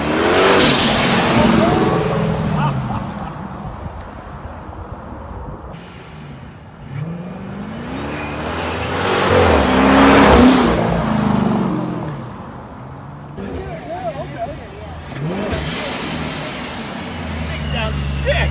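A car engine fitted with a ProCharger supercharger revs in loud surges, rising and falling several times over a steady rumble, with people talking over it.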